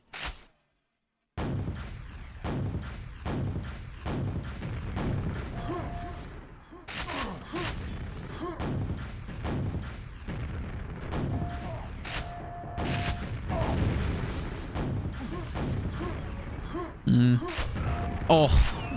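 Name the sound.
rocket launcher fire in a video game match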